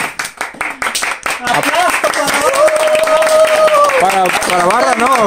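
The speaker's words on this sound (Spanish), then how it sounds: "Ese aplauso para los suscriptores." A short burst of clapping and applause at the start gives way to loud cheering and excited voices from a small group celebrating.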